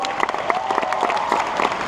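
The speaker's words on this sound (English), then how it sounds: "Another big round of applause." Audience at a live event show applauding, a dense sustained burst of clapping from a crowd, close and loud, with a little talk underneath.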